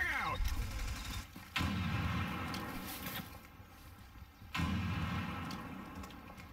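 A frag grenade blast and bursts of gunfire in the America's Army shooter, on a homestead map, land as heavy booming thumps roughly every one to three seconds, with people talking over the combat.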